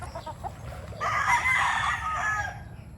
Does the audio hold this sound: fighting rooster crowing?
yes